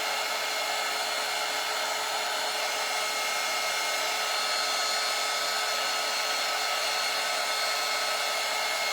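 A hair dryer blows over freshly painted mushroom garden decor, a steady, loud, unbroken whooshing drone that lasts throughout, with no speech.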